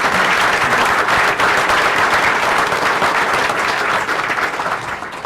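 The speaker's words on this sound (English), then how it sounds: "So if we could please give them a round of applause." An audience at a school district board of trustees meeting gives a round of applause for two educators, loud and sustained dense clapping that thins slightly toward the end.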